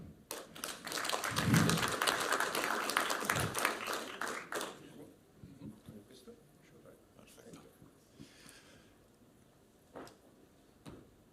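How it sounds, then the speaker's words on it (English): Applause and clapping from an audience at a startup competition pitch event as the next team takes the stage, strongest early then fading into scattered claps and taps, with talk over it. "A big applause to TokenWay."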